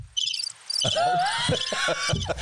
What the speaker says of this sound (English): Nobody at home. Crickets.